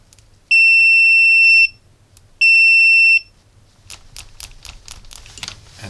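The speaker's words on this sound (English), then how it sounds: "Continuity testing or the beeping signal." Two long, steady high-pitched beeps from a cheap AliExpress multimeter in continuity mode, each lasting about a second with a short gap between, close and loud over quiet hum, followed by faint clicking.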